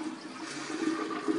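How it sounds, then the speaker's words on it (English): A toilet flushing nearby, a steady rushing swirl of water running evenly throughout without any voices. "And flush."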